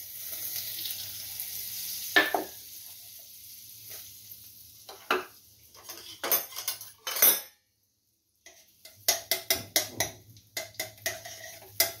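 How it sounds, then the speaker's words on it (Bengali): Butter hits a hot pan for butter prawns with a soft sizzle amid sharp utensil clinks and pan knocks, broken by a brief silence before steady sizzling and scraping resume; no talk. "দেখুন আমি বাটারটা দিয়ে দিচ্ছি।"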